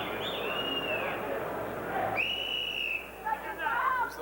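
A referee's whistle at a professional boxing match signals the start of round three, giving two drawn-out, gliding blasts over a steady roar of crowd noise.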